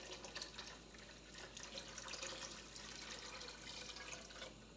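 Water poured steadily into a soup pot of chicken stock while split pea soup with ham is made, a continuous faint splashing stream that runs for several seconds with no talk.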